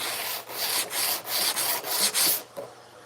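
Sandpaper is rubbed by hand over a wooden piece in quick back-and-forth strokes, about seven close, rhythmic scratchy swipes with brief pauses between them.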